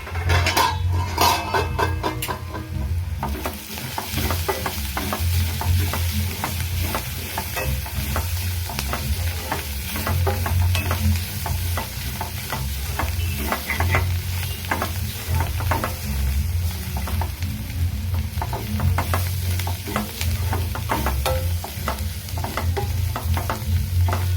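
Onions for an Andhra-style bitter gourd fry are stirred in a pan, with a constant sizzle and repeated scraping and clinking of the spoon against the pan over about twenty seconds.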